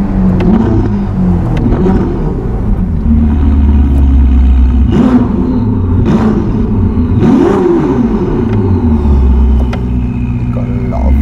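A Ferrari SF90 Spider fitted with a Novitec exhaust revs loudly and close, its engine note rising and falling in several sweeping blips over a steady idle on cold tires.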